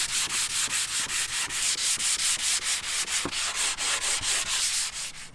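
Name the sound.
sanding wood with 220 grit sandpaper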